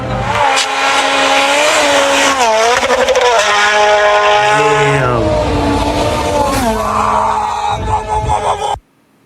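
A rally car screams past at full throttle, its engine note rising and falling through gear changes with harmonic whine sweeping up and down, loud and close, then cutting off abruptly near the end.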